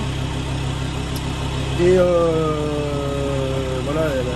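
A cold car engine, unused for a month, idles then revs gently upward twice, rising pitch held briefly before easing back, close and loud with a short spoken word.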